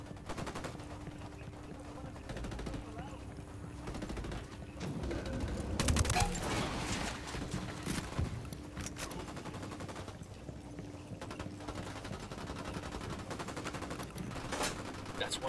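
Sustained firefight gunfire in Ghost Recon Wildlands during an assault on a hacienda, with dense overlapping bursts of rifle and machine-gun fire ringing steadily throughout and a heavier burst near the middle.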